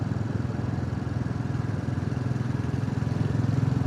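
A Royal Enfield Classic 350 motorcycle engine with an air-cooled single cylinder and alternator charging runs nearby with a steady, rapid thumping pulse, loud and even from start to finish.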